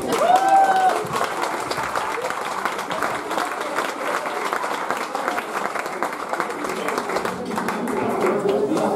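An audience in a club applauds loudly and steadily, a dense wash of clapping that carries on for the whole stretch with a brief whistle near the start.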